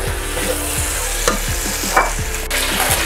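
Celery and garlic cloves frying in a pan, a steady close sizzle with regular scraping strokes of a utensil stirring every half second or so, no voices.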